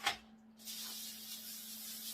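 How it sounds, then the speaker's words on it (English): Olive oil cooking spray hisses onto a foil-lined baking sheet in a brief burst after a click, followed by a steady, fairly close spray sound running about a second and a half with no talking. "I am just going to spray the baking sheet with"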